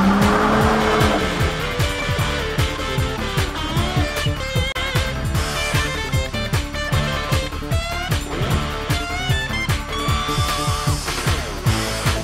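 Historic race cars, including a 1958 Rover, roar around a circuit in a championship event, engines loud and continuous with tires squealing and skidding through corners, over a dense, busy mix that may include music.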